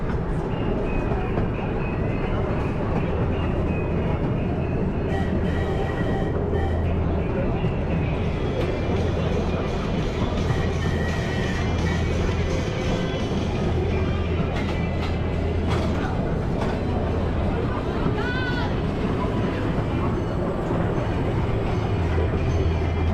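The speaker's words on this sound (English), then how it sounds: "Our little nature train is getting off to a great start." Rio Grande miniature railway train at Paultons Park rolls along steadily from an onboard seat, a continuous loud rumble of wheels and wagons with occasional clicks and squeals, as a voice talks over it.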